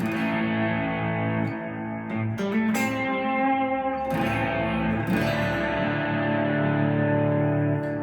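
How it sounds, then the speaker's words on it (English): Sustained guitar chords through a Kemper profiler, drenched in reverb and delay, notes smearing into long echoing tails that fill the space continuously. "it's going to give you just a little bit more reverb, a little more delay"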